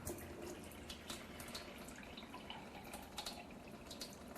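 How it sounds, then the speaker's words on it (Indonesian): A Kangen water machine drains at full flow while being flushed during cleaning, giving a steady nearby gush and splatter of water that runs unbroken throughout. "Kita buang airnya dengan debit air yang paling besar"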